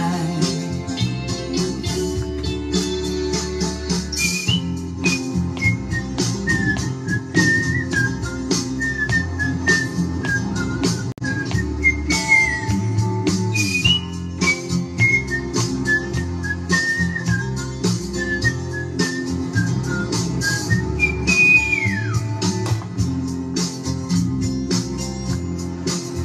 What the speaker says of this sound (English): With a whistle solo.